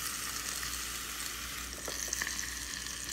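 Steak sizzles inside a closed waffle iron, a steady faint hiss of frying fat with occasional small pops, no voices.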